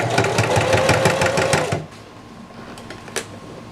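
A sewing machine stitches a vest from a kit, with fabric held by clips, running in a fast loud rhythmic burst for nearly two seconds, then stopping. A quieter room hum and a faint click follow.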